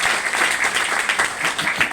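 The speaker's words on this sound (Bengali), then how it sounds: "ওনার জন্য আবার জোরে হাততালি হোক" An audience claps during a motivational business talk, a dense, even burst of applause lasting about two seconds with no break.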